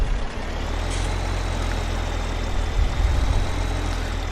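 A tractor engine in Farming Simulator 17 rumbles steadily at a heavy, low idle, loud and continuous with slight surges and a faint high whine on top.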